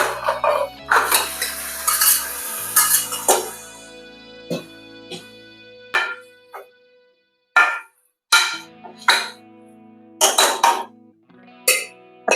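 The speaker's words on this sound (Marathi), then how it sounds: "आता याच्यात मटण घालून घ्यायचंय" Mutton tipped into a pan of oil-softened onions, followed by sharp metal spoon scrapes and clanks against the pan, coming in irregular bursts with quiet gaps between them.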